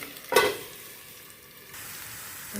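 Garlic and radish cook in oil in a covered pan while a Karnataka-style radish palya is made. A brief loud burst of sizzling and clatter gives way to a soft, steady fry.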